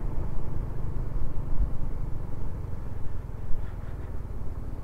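A car climbs the winding Gumitir mountain road between Jember and Banyuwangi, its engine giving a steady low rumble that swells and dips slightly as it drives.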